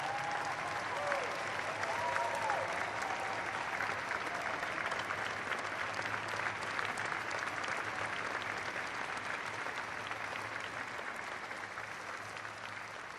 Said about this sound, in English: would you join me in giving a vigorous round of applause to Commander Bob Behnken and Commander Doug Hurley